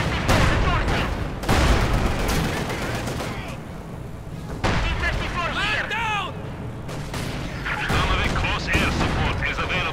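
A Company of Heroes 2 1v1 battle with a T-35 tank, field guns and a Stuka produces dense rattling gunfire, booming artillery and explosions almost without pause, under excited continuous commentary.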